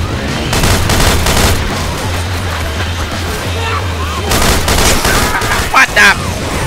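A pipe bomb blast in the zombie shooter game Left 4 Dead rolls out as a loud boom amid constant gunfire and chaotic fight noise, with a steady low rumble and brief sharp bursts near the end.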